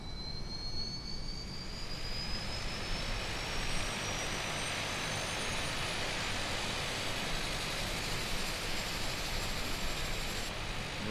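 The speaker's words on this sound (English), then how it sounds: "We've got the engine up and turning" A DHC-6 Twin Otter turboprop spooling up on engine start in a flight simulator, a loud steady roar with rising whining tones climbing in pitch throughout.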